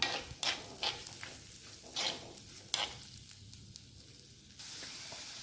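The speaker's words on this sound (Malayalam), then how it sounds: "നമുക്കിതൊന്ന് വഴറ്റിയെടുക്കാം" Chopped shallots and half an onion sautéing in a pan for a coconut-milk fish curry, a bright sizzle broken by several stirring scrapes, then settling to a steadier hiss.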